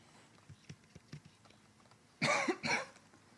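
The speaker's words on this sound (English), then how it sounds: "I'm really sorry about coughing in your ear." Two loud, close coughs in quick succession break a quiet stretch of faint tapping.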